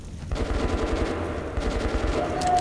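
Rapid automatic gunfire from the video game Metro: Last Light, a dense rattling burst that keeps going for the whole moment, loud and continuous.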